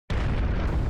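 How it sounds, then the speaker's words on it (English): A sudden, loud, broad explosion bursts in and roars on without pause, shaking the ground in the Piofiore video game. "Oh, that was an explosion."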